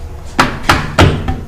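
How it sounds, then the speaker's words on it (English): Four sharp hand-struck knocks land on a motorcycle rear axle during a BMW S1000RR rear tire installation, hollow metallic thumps spaced roughly a third of a second apart, close and loud. "you might want to bump the axle from the other side with your hand because the whole axle is going to slide this way"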